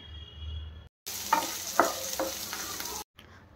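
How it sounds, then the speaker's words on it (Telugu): Three medium onions cut into pieces sizzle in a pan for mutton fry, with a broadband hiss and a few stirring clatters, close and steady between brief silent cuts. "అవి ఇందులో యాడ్ చేసుకొని ఫ్రై చేసుకోవాలి"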